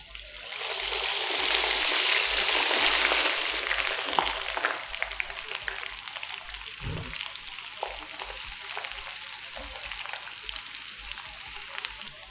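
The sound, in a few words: French fries made from Indian potatoes frying in very hot oil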